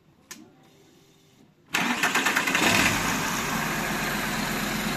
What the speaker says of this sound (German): So, und jetzt machen wir mal den Motor an.